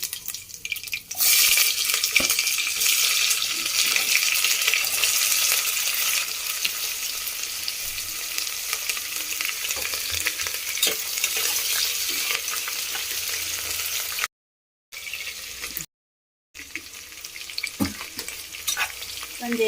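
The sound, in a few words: mustard seeds, Guntur chillies and curry leaves sizzling in hot oil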